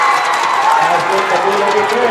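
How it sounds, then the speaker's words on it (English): A crowd roars and cheers at a high school basketball game, a steady dense wash of voices and noise with a voice talking over it. "Listen to this crowd."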